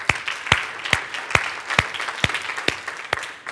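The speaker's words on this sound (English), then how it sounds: "Give yourselves a round of applause." Audience applause at a millionaires' summit comes as evenly spaced, sharp claps in unison, about two per second, loud and close with softer clapping between the beats.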